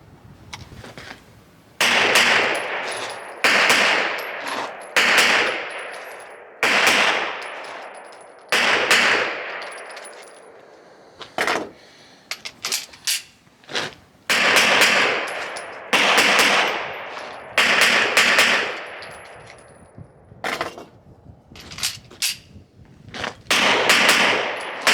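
Bursts of Smith & Wesson M&P 2.0 Metal pistol fire at a shooting range, sharp loud reports in quick strings and single shots with brief pauses between groups, each crack ringing out with a metallic tail.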